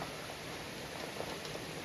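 Heavy rain falls as a dense, steady wash of patter, faint and continuous with no voices.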